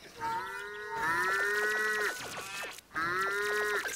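Cattle moo repeatedly in the farming video game Fat Chicken, with long, drawn-out calls that overlap and carry loud and close from start to finish.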